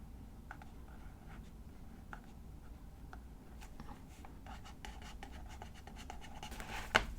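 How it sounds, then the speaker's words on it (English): Scratchy strokes of a Pigma Micron size 12 pen writing on a journal page, close and quiet, with short irregular scribbles and pauses and a sharper tap near the end. "I have a Pigma Micron size 12 pen here. I'm just going to write"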